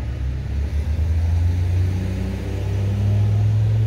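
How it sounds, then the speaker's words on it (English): Road traffic passes outside near a cemetery, a steady low engine rumble and tire roar that swells slightly toward the end, with no voices. "Wait for the traffic to leave."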